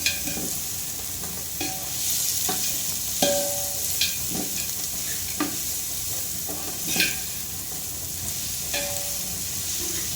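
Onions frying in oil in a pan for coconut rice: a steady sizzle throughout, broken by repeated spatula scrapes and taps at an unhurried pace.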